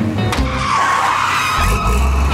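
A cartoon construction vehicle accelerating after its brake is released, a short squealing, skidding rush of motor and tyres that swells and then settles into a low, loud engine rumble.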